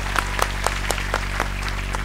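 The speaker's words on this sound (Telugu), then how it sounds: "ఒక్కసారి అందరూ కూడా చప్పట్లు కొట్టండి." An audience at an Ugadi celebration claps to honor a young man being felicitated. The applause is scattered and fairly soft, made of uneven individual claps over a steady low hum, with no talking.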